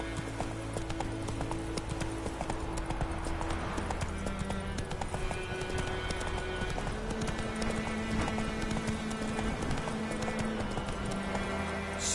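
Horse hooves clip-clopping at a steady gallop while riding in The Witcher 3, a continuous rhythmic beat under layered game music.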